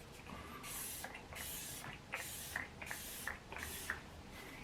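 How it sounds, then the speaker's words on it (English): ColourPop Pretty Fresh Hyaluronic Setting Spray mists onto a face in six quick, evenly spaced pump bursts, each a short, soft hiss, close and quiet. "I'm going to use the ColourPop Pretty Fresh Hyaluronic Setting Spray."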